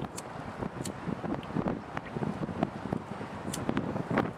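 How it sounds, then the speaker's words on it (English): Gusty wind buffets the microphone, a rough rumbling roar with short sharp bursts throughout. "The only problem is it's a bit windy"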